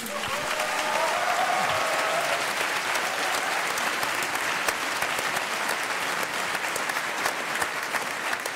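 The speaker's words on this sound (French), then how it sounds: "Vous pouvez applaudir" A conference audience applauds steadily and densely, sustained throughout at an even level, with a faint murmur of crowd noise beneath.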